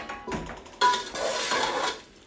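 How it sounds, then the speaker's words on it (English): A spoon stirs coriander into mince and dhal in a pot, giving a brief burst of scraping and clinking against the pot with soft wet shuffling, close and alone. "stir the coriander around"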